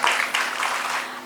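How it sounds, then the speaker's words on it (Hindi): An audience at a TB-free India felicitation ceremony in Raj Bhavan, Dehradun claps in a brief, moderately loud burst of applause that tapers off slightly, with no talk. "जोरदार तालियों से स्वागत कीजिएगा"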